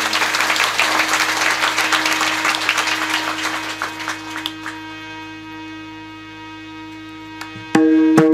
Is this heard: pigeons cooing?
no